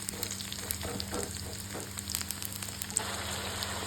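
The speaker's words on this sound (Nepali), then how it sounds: "यहाँ चाहिँ सेला पाक्दैछ।" Sel roti fries in hot oil with a continuous, even sizzling crackle, close by and moderately quiet, with a steady low hum underneath.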